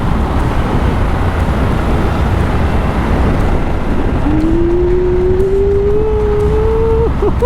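Motorcycle ridden fast through sharp curves on an unfamiliar road in Canada: a steady, loud roar of engine and rushing wind throughout, with a rising engine tone coming in over the second half.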